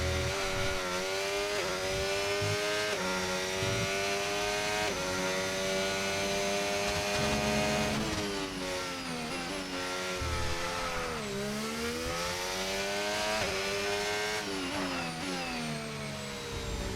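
An F1 car engine in the F1 25 game screams continuously, rising and falling through gear changes with sharp shifts and steady high-pitched revving throughout.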